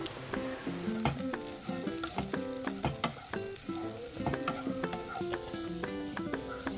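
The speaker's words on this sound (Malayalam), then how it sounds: "ഇതിലേക്ക് വെളുത്തുള്ളി ചേർത്തിട്ടുണ്ടായിരുന്നു നന്നായിട്ട് വറുത്തെടുക്കാം" Grated coconut and garlic dry-roast in a pan for an egg curry, giving a steady close crackling sizzle broken by repeated scraping stirring strokes, with no voices.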